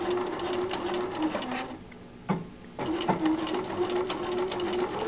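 A sewing machine hums and chatters steadily while zigzag stitching a quilted window pane pattern, pausing briefly for a moment before resuming at full speed, close and loud.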